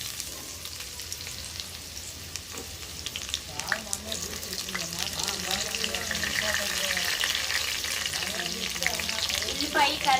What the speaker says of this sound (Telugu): ఆయిల్ అయితే వేడింది కదా, ఉల్లిపాయ వేసేసుకున్నాం